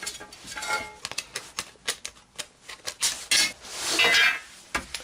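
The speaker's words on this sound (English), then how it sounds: "I can trim that off there with the snips." Tin snips cut the sheet-metal lid of a Yugoslavian Serbian mess tin in a quick series of sharp, metallic clicks and crunches. The snips come in irregular bursts close to the listener, with a few longer rasping cuts toward the end.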